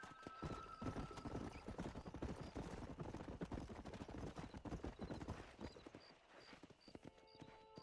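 Horse hooves clip-clop in a steady galloping rhythm in the video game Red Dead Redemption on Xbox 360, loud and continuous, with faint neighs and some distant gunfire mixed in.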